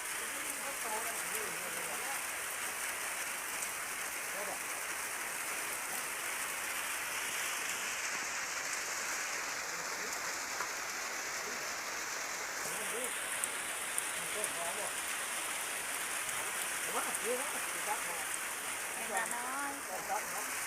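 Steady rain pattering down on surfaces at a small hut in rice fields, a dense hissing wash that continues throughout, with faint voices occasionally underneath.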